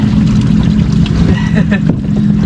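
An inshore fishing boat's engine runs steadily at close range, a loud continuous low drone off the Cornwall coast, with faint voices underneath.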